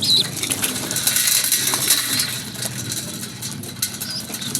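Pigeons flutter and coo amid steady outdoor noise, with wings flapping and a faint mechanical rattle throughout.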